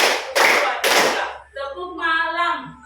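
A group claps together in rhythm during a classroom clapping game, three sharp loud bursts of clapping in quick succession, followed by voices talking.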